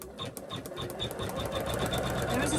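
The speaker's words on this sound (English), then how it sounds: "Now I'll start the machine and take care that my fingers are not punched by the needle." A sewing machine stitches free-standing lace embroidery with fast, even mechanical ticking of the needle, close and steady, its hum gradually building as it runs.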